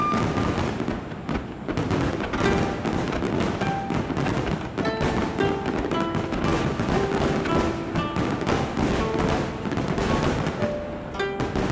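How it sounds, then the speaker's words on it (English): Fireworks burst at the Nagaoka firework festival in Japan, a loud, rapid barrage of booming thumps and crackling explosions that overlap continuously, with no voices. "in Nagaoka there's the biggest firework festival in the country"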